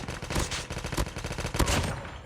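Dense gunfire from a 3v3 gun fight video game, with rapid overlapping shots and bursts that fill the whole stretch at steady loudness, without any talk.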